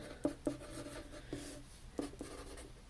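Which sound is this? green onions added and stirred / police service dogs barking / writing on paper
writing on paper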